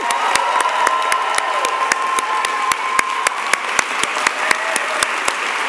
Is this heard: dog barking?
no